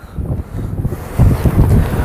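Strong wind buffets the microphone in a continuous low roar, gusting harder partway through.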